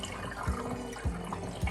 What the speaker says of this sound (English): It actually works a lot better if you can just pour it right through the center.